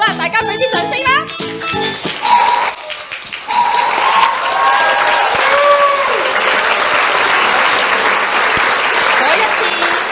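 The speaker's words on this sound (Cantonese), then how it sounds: "大家俾啲掌聲啦" Applause from a church women's fellowship audience at a skit rehearsal, steady sustained clapping filling the scene after a brief musical opening, loud and close, with no speech over it.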